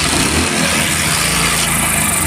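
A vehicle engine idles steadily and close by after starting, a continuous low rumble with no break and no voices.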